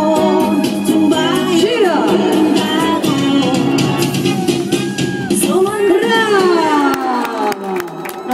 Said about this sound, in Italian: Mi è piaciuto l'applauso